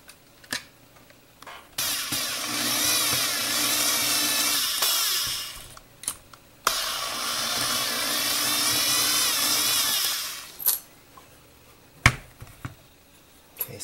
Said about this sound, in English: I'm going to drill these holes out a little bit bigger so my screws can go in there easily without any struggle